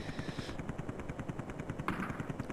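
Rapid automatic gunfire from the Amiga game Zeewolf, a steady stream of loud, evenly spaced shots with a brief blast-like burst near the end, alone without talk.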